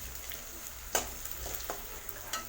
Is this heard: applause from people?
no